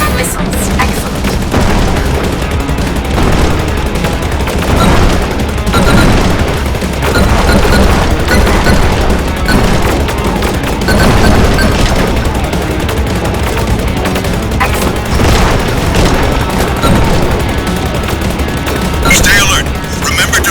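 Missiles launch and burst in the space shooter Rogue Flight, a dense, loud barrage of rapid explosions and gunfire rumbling continuously, with a voice speaking over the action.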